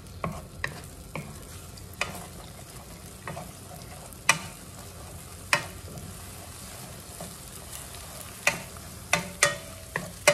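Egg stirred and frying in a pan for bacon and egg fried rice: a steady sizzle runs throughout, broken by repeated sharp scraping clicks of a utensil against the pan, with no talking.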